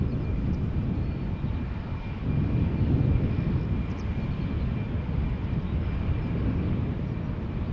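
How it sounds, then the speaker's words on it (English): A KLM Embraer 190 passenger jet on approach to Schiphol Airport makes a steady, low engine rumble that swells slightly midway and holds at moderate distance, with no voices. "Time to see how KLM flight 1772 is approaching."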